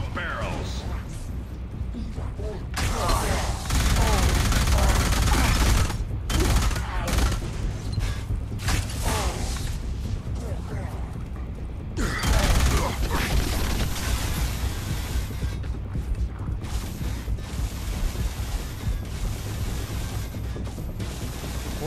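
Sustained gunfire rattles on in the Alien Rage shooter, dense bursts of automatic fire and shotgun blasts with mechanical clatter, loud and near, pausing briefly between volleys.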